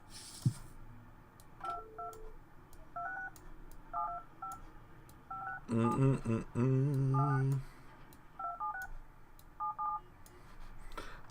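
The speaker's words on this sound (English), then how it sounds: "Listening to the bloody dial tone for the internet to work" Dial-up internet modem in the Project Highrise game: a rapid series of touch-tone dialing beeps, then a loud burst of screeching handshake tones, followed by more dialing beeps, clean and close.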